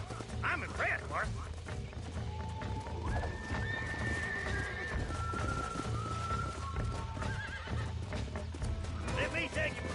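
Horse whinnies and clip-clopping hooves ring out in a Red Dead Redemption game scene, a steady close gallop rhythm under game music, with several bright neighs cutting through near the start, middle and end; a voice speaks over it.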